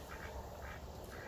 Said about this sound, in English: hey, ducks, you're too loud.